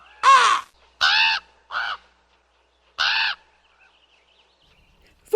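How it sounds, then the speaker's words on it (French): A crow caws loudly and close by, four harsh calls spaced with short pauses and then a longer silence before another call begins. "Le corbeau recommence alors à crier."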